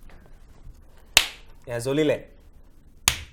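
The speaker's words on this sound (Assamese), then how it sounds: "হাত চাপৰি বজোৱাৰ লগে লগে জ্বলিব" Two sharp, loud hand claps about two seconds apart switch a clap-activated studio light on and off, with a short stretch of talking between them.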